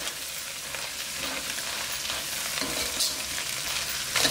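Chicken fried rice with cabbage stirred in a hot pan, a steady loud sizzle with scraping stir strokes throughout, no talking.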